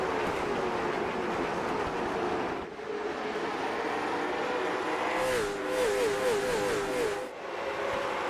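Stock race cars at North Wilkesboro roaring around the track, a sustained engine drone with shifting pitch as cars pass and rev, steady and fairly loud throughout.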